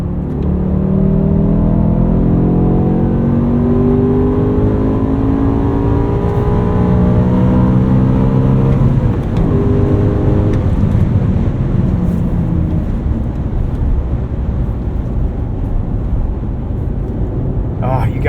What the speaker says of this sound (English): In M dynamic mode, the rev matching is just perfect with a throttle response.